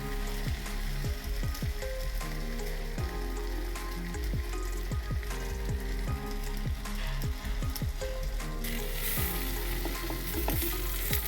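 Jowar dosa crisping in oil on a hot pan gives a steady, close sizzle, spattered with frequent sharp pops and light clicks throughout, swelling into a brighter, louder hiss near the end.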